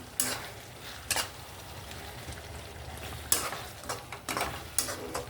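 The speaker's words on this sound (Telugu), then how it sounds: "ఇప్పుడు కాలీఫ్లవర్ ముక్కలు వేసుకుందామండి" Cauliflower pieces go into a cooking pan for a cauliflower, drumstick and tomato curry, giving faint scattered clatters and stirring scrapes over a quiet sizzle, with no talking.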